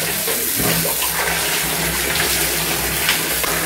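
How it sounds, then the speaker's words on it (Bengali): Tap water runs into a bath, mixing hot and cold, as a steady, continuous rushing splash close by that lasts the whole time with no voices. "ম্যাগিকে চান করাতে ঢুকিয়েছি"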